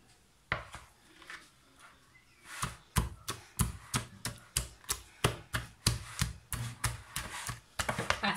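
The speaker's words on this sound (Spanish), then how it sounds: "Y ahora con el tomate y el pan vamos a seguir majando" Tomato and bread pounded in a mortar for gazpacho: a steady series of sharp, close knocks, roughly two per second, after a few softer scattered taps at the start.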